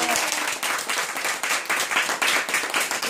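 An audience at a church thanksgiving service applauds to welcome a praise team, dense steady clapping from many hands filling the room.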